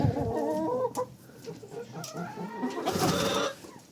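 Chickens cluck and murmur close by in a steady jumble of short calls, with a few sharper squawks mixed in, in a bedded coop.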